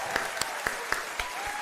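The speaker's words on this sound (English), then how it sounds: "Another round of applause." A short burst of clapping from a small group, individual claps standing out in an uneven rhythm, fairly close.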